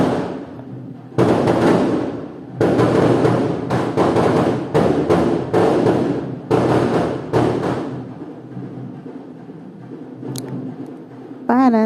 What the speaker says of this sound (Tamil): இப்படி பட்டாசு வெடிக்கும்போது